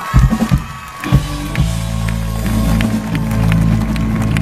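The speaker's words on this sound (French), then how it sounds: "Sous les applaudissements du public" An audience cheers and claps after a female singer's performance at a radio singing-contest final, a loud, dense crowd roar with whoops over a low sustained musical tone, swelling steadily throughout.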